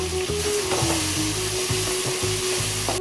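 Chopped tomatoes sizzling and frying steadily in a hot pan while cooking pepper chicken, a constant bright crackle with light scraping and stirring knocks underneath, close and even.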